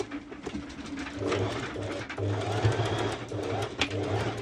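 A sewing machine runs steadily through bulky ruched fabric, its rapid mechanical stitching whirring close by and slightly skipping, with a faint low hum and occasional soft clicks.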